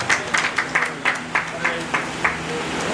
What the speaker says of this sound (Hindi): जोरदार तालियों से स्वागत जी का।